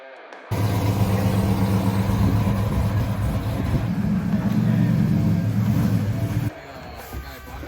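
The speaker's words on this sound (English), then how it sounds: "That car sounds amazing, doesn't it? That 1971 Firebird Formula." A 1971 Pontiac Firebird Formula with hood scoops runs its engine, a loud steady low rumble that holds for about six seconds before cutting off.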